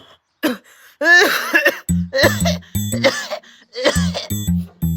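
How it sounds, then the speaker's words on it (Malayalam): A person coughs repeatedly in harsh, close bursts, several in quick succession with short pauses between. "നല്ല ചുമയുണ്ടല്ലോ"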